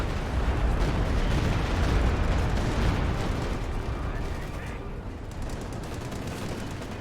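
An artillery barrage lands in the video game Company of Heroes 2, a dense, continuous wash of booming explosions and gunfire that stays loud throughout and eases slightly toward the end.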